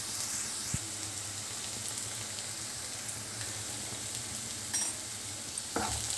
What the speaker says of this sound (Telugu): ఉల్లిపాయ ముక్కల్ని చక్కగా గోల్డెన్ బ్రౌన్ కలర్ వచ్చే వరకు వేయించుకోవాలి.